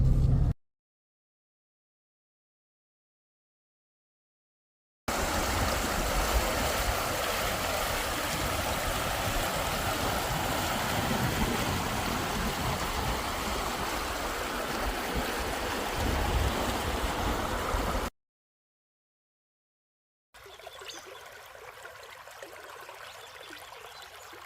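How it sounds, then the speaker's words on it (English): A bush tracker vehicle drives through a creek crossing, giving a long, loud, steady rush of churning water and wind noise, cut off by silent gaps at either end. "Water crossing, will the bush tracker make it?"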